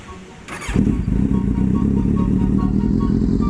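A Kawasaki Z800 motorcycle with an aftermarket exhaust pipe fires up with a brief cranking whirr, then settles into a loud, close, deep, steady, rumbling idle.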